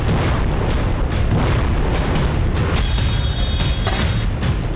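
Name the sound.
explosions from air strikes on Beirut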